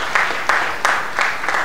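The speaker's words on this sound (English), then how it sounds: "a round of applause" Applause from an audience at a Ghana Boxing federation gathering, a dense wash of many hands clapping steadily with a few louder swells, moderately loud and without talk over it.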